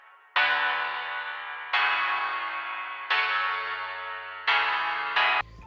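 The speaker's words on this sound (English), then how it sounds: "In the intro, I've used a old telephone preset on parametric EQ2." A thin, band-limited synth lead with a tinny, telephone-like tone from an old-telephone EQ preset, playing four long held notes and a short final one, each fading slightly, in a drum and bass intro.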